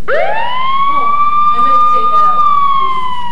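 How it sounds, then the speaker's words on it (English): A siren plays loudly during a trial-lawyer presentation, sweeping up into a wail and holding steady, with someone speaking over it. "Sorry about the siren."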